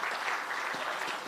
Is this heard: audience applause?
yes